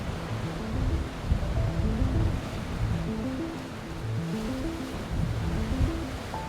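Wind and swell breaking on exposed rocks at North Stradbroke Island, a steady surging wash of surf with gusty rumble swelling and easing, close and fairly loud, no voices.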